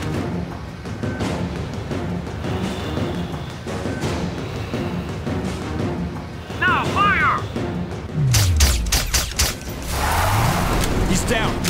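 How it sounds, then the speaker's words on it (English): Sniper rifle fire sets off explosive barrels in the shooter game Sniper: Ghost Warrior, with loud booming blasts and crashing debris in the second half, following mechanical game noise under speech. "Shoot the barrels as he drives past them."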